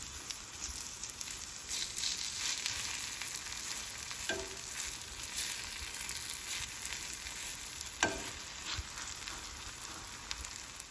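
Vegetable pancake frying in a pan, a steady close sizzle with crackle running throughout, marked by a couple of sharp clicks from turning or touching the pan.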